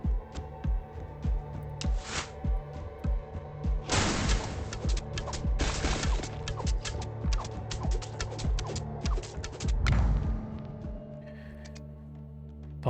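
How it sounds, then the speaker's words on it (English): Volcanic eruption tower in the roguelite tower defense game Nordhold hurling magma balls at random enemies, heard as a dense run of booming thuds and crackling blasts over a low rumbling hum, with loud bursts near four, six and ten seconds. "Uncontrollably throws magma balls at random enemies."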